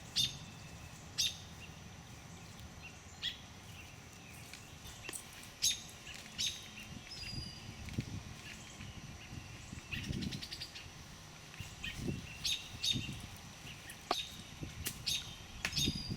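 Small birds chirp faintly from a nest outdoors, scattered short tweets spread across the stretch over a quiet background with some low rustling.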